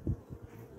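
Honeybees buzzing at an opened top bar hive during an April inspection, a low close hum with a few brief louder swells from individual bees.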